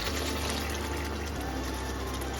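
Water pours in a steady stream into a pan of chana paneer curry with whole tomatoes, a continuous close trickle and fill sound with no talk.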